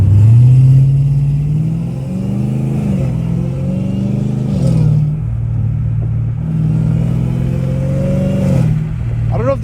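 A catless, straight-piped Dodge Hellcat Redeye engine revs loudly and close by, its tone climbing and falling through several throttle blips over a deep, steady rumble.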